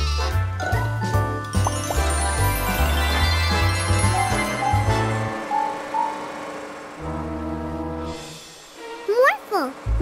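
Cartoon sheep bleat in a children's animated show, drawn-out wavering calls layered over a bouncy musical score with a deep horn-like tone, ending in a few short, high, wobbling bleats as the music drops away.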